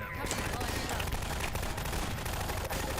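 Rapid gunshots in Half-Life 2, a dense, loud barrage of automatic fire rattling continuously for a few seconds, with voices faintly mixed in.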